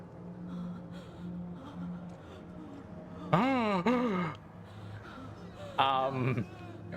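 Heavy, labored breathing from a character in the video game Kingdom Come: Deliverance 2, rising in two loud voiced bursts of gasping and groaning over a low ambient game backdrop.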